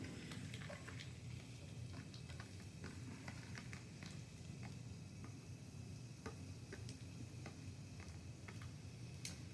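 Onions frying in butter in a pan, a quiet continuous sizzle with scattered light ticks and pops, steady throughout and heard alone.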